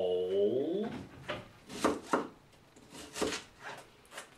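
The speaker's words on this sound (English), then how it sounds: "So we'll cut up our bacon and onion, and we'll put them into a bowl" A knife chops bacon and onion on a cutting board, about eight sharp, close knocks spaced irregularly, after a brief sung or hummed note at the start.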